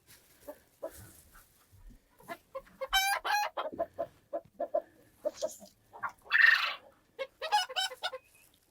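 Small hens in a barnyard cluck and squawk in a lively series of close, sharp calls with a few drawn-out cackles and crowing notes, irregularly spaced against a quiet background.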